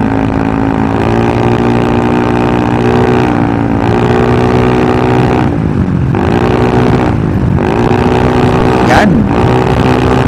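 A Rusi Passion scooter with a GY6 engine and a 13/40 final gear runs at half throttle under a heavy rider, its steady close engine drone rising and dipping in pitch as speed shifts.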